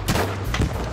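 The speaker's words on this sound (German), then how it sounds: "Links explodiert gleich was." Explosions in Battlefield V, two heavy booming blasts in quick succession with a low rumbling tail, loud and close.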